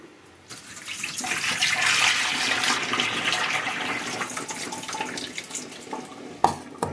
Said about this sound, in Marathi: आता ही स्वच्छ धुवून काढायची आहे. 2-3 पाण्याने धुतली की मस्त निघून जाईल ही.